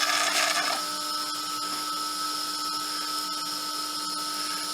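A small machine tool plunge-cuts a crank pin for a PM Research No. 4 Quarter Horse engine, a steady high-pitched motor whine with a brief harsher cutting burst at the start, close and without talking.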